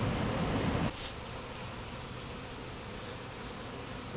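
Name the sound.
honeybees buzzing near their hive during honey harvest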